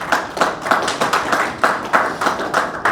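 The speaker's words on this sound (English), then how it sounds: "One more time, please, a round of applause." Audience at a jazz event in Nigeria applauding, with fairly loud, rhythmic clapping that beats in near unison several times a second, with no talk over it.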